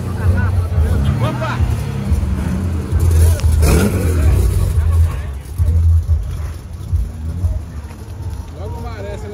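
A Toyota Supra with a 2JZ engine revs loudly nearby, its low growl surging and easing over several seconds amid excited chatter and shouts from onlookers.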